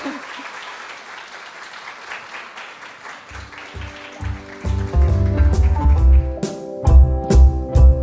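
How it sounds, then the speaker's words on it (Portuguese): Audience applause welcoming author Keila Araújo at a children's ministry author meeting, starting faint and swelling into loud, dense clapping with rhythmic music and voices joining toward the end. "vamos receber com fortes aplausos"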